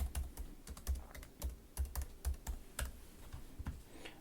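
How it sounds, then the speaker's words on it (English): Someone types a search on a computer keyboard: a quick, close run of crisp key clicks in uneven bursts, with no voices. "I would just utilize the search function and just kind of type whatever you're looking for."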